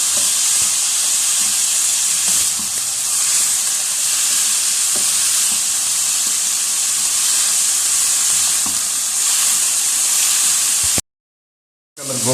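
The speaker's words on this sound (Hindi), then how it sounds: "गाजर और शिमला मिर्च चूँकि थोड़ी सख्त होती है तो इसलिए इसको पहले डाल दिए। इसको आपने 1 से 2 मिनट सौते करें।" Carrots and bell peppers sautéing in a pan, a loud, steady sizzle and hiss with faint scraping under it, cutting out abruptly near the end.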